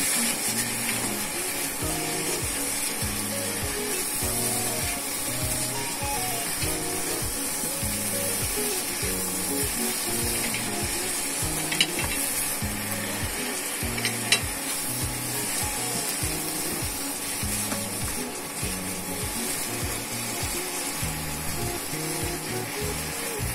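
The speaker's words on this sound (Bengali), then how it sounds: "ভালোভাবে নাড়াচাড়া করতে হবে।" Eggplant and tomato curry frying in a pan, with steady bubbling sizzle throughout and repeated rhythmic scraping strokes of a spoon stirring, close and continuous, no talk.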